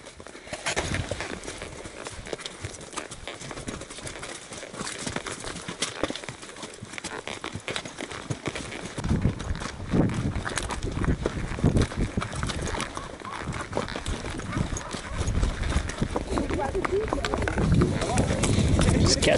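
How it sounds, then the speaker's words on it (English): Horses' hooves clop along a trail on a guided horseback hike through Copper Canyon near Divisadero, Mexico. The plodding steps run steadily throughout, with wind and rustling, and people talk over them at times. "As you can see now, we're hiking with horses."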